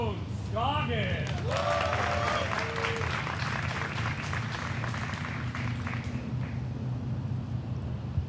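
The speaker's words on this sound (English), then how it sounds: "Let's hear a round of applause for Ohn Scoggins" Crowd applause for disc golfer Ohn Scoggins at the 2022 Portland Open, a steady wash of clapping and cheering throughout, with an announcer's voice and whoops mixed in near the start.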